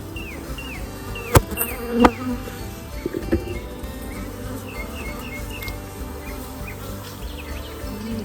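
Honeybees buzzing around a backyard beehive, a steady insect drone with a few sharp knocks and thumps from hive equipment, birds chirping faintly in the background.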